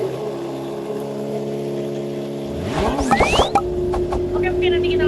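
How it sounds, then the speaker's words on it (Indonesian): A Kawasaki ZX 636 motorcycle engine idles steadily while warming up, close and fairly loud, then a brief rising rev sweeps up near the end before settling back to idle. "Kita panasin dulu deh motornya."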